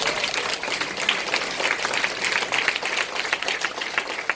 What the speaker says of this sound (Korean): 박수 한번 주실래요?